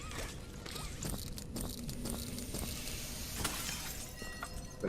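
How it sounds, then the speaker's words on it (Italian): Glass shattering in the video game Poppy Playtime, a quiet rattle of breaking and tinkling shards with scattered clinks and a sharper crash toward the end. "Qua qualche vetro si può rompere forse così."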